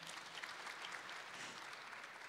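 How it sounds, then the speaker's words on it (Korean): Audience applause fills a hydrogen industry conference hall in Korea: a steady, dense wash of many hands clapping together, sustained throughout with no voices on top. "여러분 큰 박수 부탁드리겠습니다"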